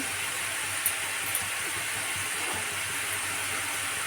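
A small-fish curry simmers in a pan just after a little water and two green chillies go in, giving a steady, even hiss of bubbling liquid with a couple of faint clicks and no voices.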